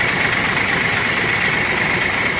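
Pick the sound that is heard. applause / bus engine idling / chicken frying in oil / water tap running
bus engine idling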